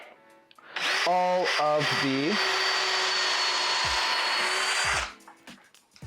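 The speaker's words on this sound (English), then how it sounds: "So I'm going to pre-drill" A power drill whirs steadily for about four seconds, pre-drilling a screw hole in scrap wood, after a brief spoken word and some harmonic squeaks at the start.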